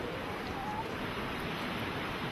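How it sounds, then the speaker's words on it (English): Rushing river water, the beginnings of a great river flowing toward the Kidron valley, heard as a steady, broadband wash of running water that continues evenly throughout with no voices. "I think there's running water."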